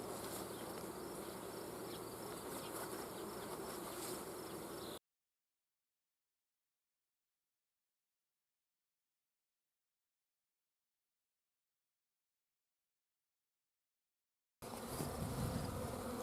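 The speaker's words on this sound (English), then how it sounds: "Bees are kind of confused." Dense buzzing of bees, steady and close, heard at the start and again briefly at the end with silence between.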